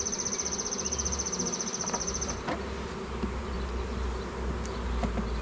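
A steady hum of honeybees buzzing close by around hive frames being fitted with new beeswax, a continuous droning with a high-pitched whine at first, alongside faint handling noises.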